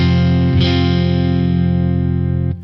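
An electric guitar plays through a Crazy Tube Circuits Crossfire pedal with the gain boosted, into an amp set clean. A single held chord rings steadily and loud, then cuts off near the end.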